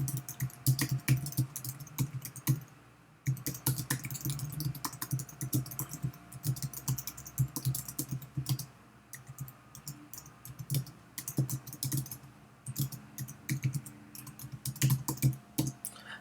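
Steady typing on a computer keyboard while a chat message is written, with dense, quick clicking keystrokes coming in bursts and a brief pause near the start, close and fairly loud.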